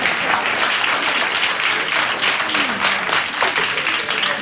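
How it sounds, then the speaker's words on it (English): Applause from an audience at an interview event, a dense and loud wash of clapping that carries on steadily with no gaps. "and I applaud you"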